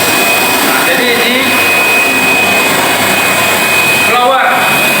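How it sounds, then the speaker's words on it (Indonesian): An air blower supplying oxygen at a treatment plant built from used machinery drones loudly and continuously, a dense steady whoosh with a faint high whine running through it, close by and unbroken throughout. "blower untuk oksigen, untuk memecah partikel kimia"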